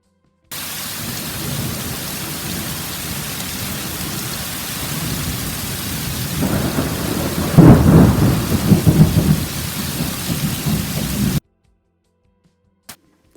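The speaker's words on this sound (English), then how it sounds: "There's a flash of lightning, then a crash of thunder." Steady heavy rain pours, then a loud rumbling crash of thunder rolls through the middle before the downpour continues and cuts off.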